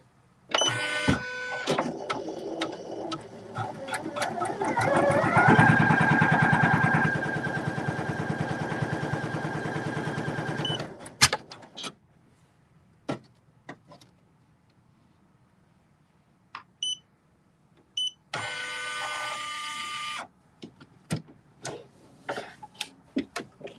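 A Poolin EOC06 single-needle embroidery machine stitches a patch, a rapid mechanical clatter and whir with a tonal motor hum that stops abruptly, followed by sparse clicks and another short burst of stitching.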